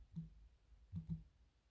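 A computer keyboard gives a few soft, sparse key clicks, one alone and then a quick pair, heard quietly in an otherwise still room.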